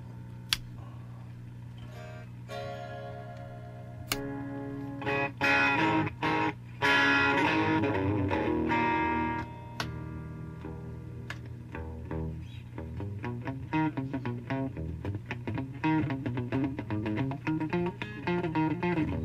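An electric guitar with old, dead strings plays through a converted 1967 GE hi-fi amplifier on its clean channel, with picked notes and chords ringing in an uneven phrase and some louder strummed bursts in the middle.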